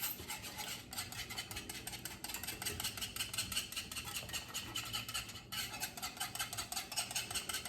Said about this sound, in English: now I'm like whisking for dear life trying to get my extra little flour chunks on